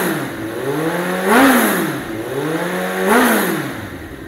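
Kawasaki Z800 naked motorcycle, 800 cc four-cylinder engine, revved at half throttle: two sharp blips, each climbing and then dropping back to idle, with a steady rumble between them, loud and close, no talking.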